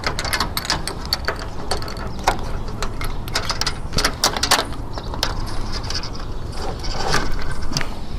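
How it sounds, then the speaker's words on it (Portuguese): Metal clicks and scrapes ring out as a bolt is fitted into a solar panel mounting structure, a close, irregular series of sharp ticks and rattles with brief pauses between them and no talk. "Vou botar já o segundo parafuso, depois eu venho apertando."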